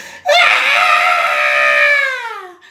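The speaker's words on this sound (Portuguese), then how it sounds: "As crianças então deram um grito" Children give a single loud, sustained high-pitched scream of fright, starting abruptly, holding steady for about two seconds and then trailing off and falling in pitch, close and clear with no other sound.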